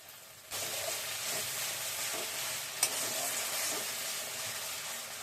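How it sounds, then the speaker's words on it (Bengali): Coconut milk poured into a sizzling paste of fried poppy seed and nuts, which bursts into a loud, steady hiss and steamy frying sizzle that keeps going close by, no talking. "পোস্ত আর বাদাম বাটাটা কষে গেছে, এখন আমি নারকেলের দুধটা এর মধ্যে ঢেলে দিলাম"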